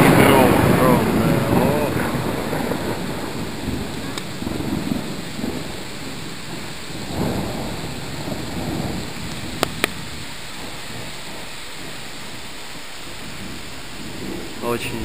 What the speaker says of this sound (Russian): И гром, гром, да.